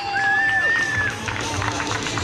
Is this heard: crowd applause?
yes